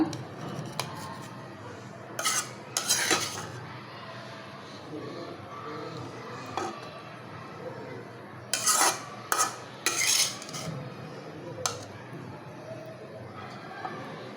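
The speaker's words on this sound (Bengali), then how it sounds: "এই যে দেখো ভাজি রান্না করছি" Pumpkin bhaji cooking in a pan, stirred with a utensil that gives intermittent metallic scrapes and clinks in clustered bursts over a soft background, with a voice talking at times.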